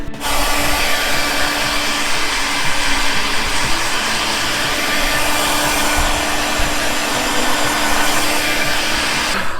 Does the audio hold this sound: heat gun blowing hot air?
yes